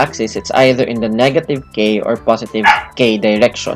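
Dogs bark and yip in the background during a math lecture, with the barks partly masked by a man's continuous speech.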